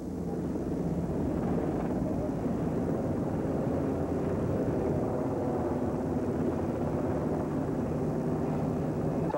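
A military helicopter carrying Aristide from the airport to the National Palace makes a steady, loud rotor and engine drone that holds throughout without a break.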